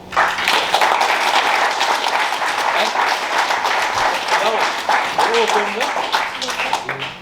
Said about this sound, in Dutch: applaus voor jou.